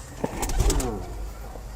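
A breeding pigeon coos briefly up close, a soft low throaty burble over faint background noise.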